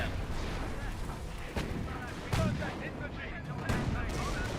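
Half track gunfire and artillery in the Company of Heroes game, with sharp bursts and booms in an irregular rhythm beneath a commentator who talks over them.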